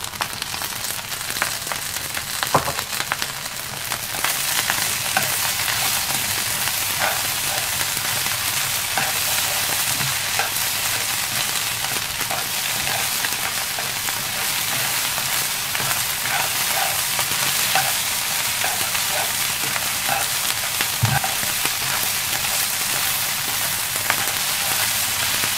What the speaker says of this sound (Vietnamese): Các bạn chiên cho đến khi hạt cơm chín mềm là được.